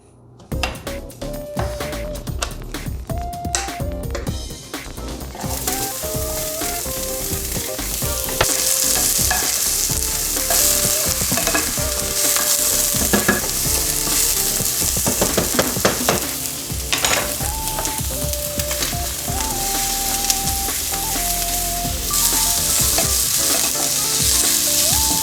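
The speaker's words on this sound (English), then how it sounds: "We're gonna start sauteing our onions and our celery." Onions and celery sizzle steadily in hot oil in a pan, a loud continuous frying hiss with occasional scrapes and clinks of stirring, no voices.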